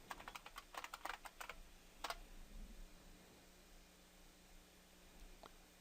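Quick bursts of keystrokes on a computer keyboard as a password is typed at a login screen, a few taps then a pause and a final press, close and fairly quiet over a steady hum, no voices.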